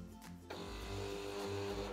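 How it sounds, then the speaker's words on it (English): A serger sewing a rolled hem with a very short stitch around a neckband, running as a steady, close mechanical hum with fine rapid rattling from start to finish, and no talking. "This is a very short stitch, so it goes through the machine very slowly."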